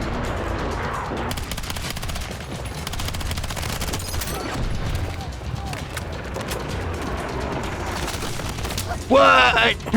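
Rapid SMG gunfire in the video game Battlefield 6: crackling bursts fire almost continuously at mid distance, with a short voice-like burst near the end.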